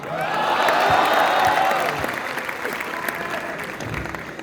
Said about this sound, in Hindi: ये जो तारीफों भरी तालियां बजाकर आपने मेरा स्वागत किया